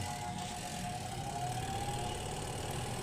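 A double tub washing machine's spin dryer motor spinning, a steady droning hum with a faint whining tone that slowly drifts in pitch, continuous and fairly close, with no talking.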